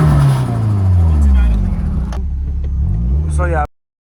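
A stock-motor Nissan 240SX with raised fuel pressure pulls hard down the street, boosting up to 10 psi. Its loud, rising engine note climbs steadily up close, then cuts off abruptly near the end.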